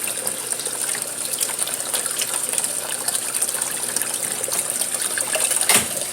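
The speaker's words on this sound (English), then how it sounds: "you should have good clean water running out of your filter now." Water gushes steadily from a canister filter tube into a bucket during an aquarium water change, a continuous bright hissing splash with a brief louder surge near the end.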